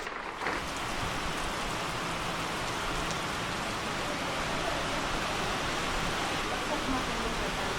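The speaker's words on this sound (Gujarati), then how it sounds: "કેવો વરસાદ આવે છે" Steady, close rain pours down without a break during a rainy outdoor yoga session, a dense, even hiss that fills the whole stretch.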